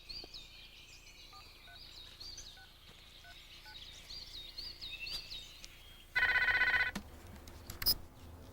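An indoor telephone gives one short, loud ring burst near the end, after a stretch of quiet room ambience with faint birdsong in the background.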